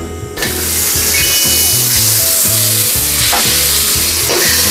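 Butter sizzles loudly and constantly in a hot pan while mackerel fries, a dense close-up hiss with a soft musical hum underneath throughout.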